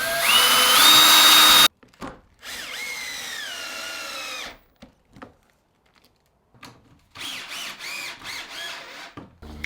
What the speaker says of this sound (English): first I need to drill a pilot hole for them